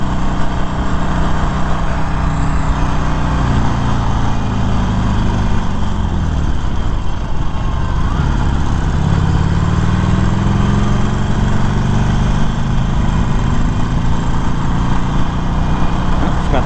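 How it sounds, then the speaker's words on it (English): A 2020 Harley-Davidson Iron 1200 motorcycle engine rumbles steadily while riding, with wind noise and a slight pitch dip and recovery midway; loud and continuous, no voices. "If you're not used to this engine vibration"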